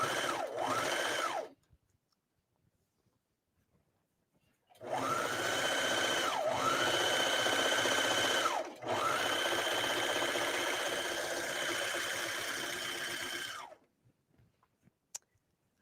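Serger sewing a seam on a tank top, running loud and close in two bursts, a short run, a pause, then a longer steady whir with a brief dip before stopping.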